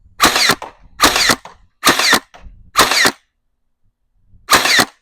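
An X-Shot motorized piston pump toy blaster fires four loud, sharp mechanical bursts in quick succession, then a pause and one more burst, close and punchy.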